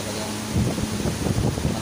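Strong typhoon wind in Rizal, Occidental Mindoro, gusting steadily with a noisy, buffeting rush against the microphone that grows stronger midway, with no talk over it.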